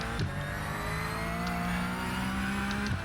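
A car engine from a sim racing game played on a direct drive wheel holds a steady, sustained drone throughout, with a rev change near the start and again near the end, loud and alone.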